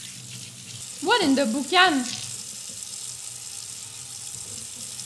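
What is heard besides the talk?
water running from a sink tap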